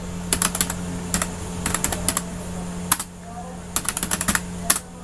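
An address being typed on a computer keyboard: quick clusters of crisp key clicks, close and clear, with a short pause midway, over a low electrical hum.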